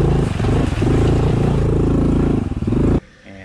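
A Honda CT125 motorcycle fitted with a 142cc big bore kit ridden through deep mud, its engine a loud, close, continuous roar with slight surging before it cuts off abruptly near the end.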